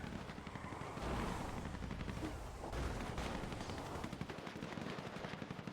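Rapid video game gunfire during a competitive turf war match, dense automatic bursts with overlapping shots from several weapons, loud and continuous throughout with no speech.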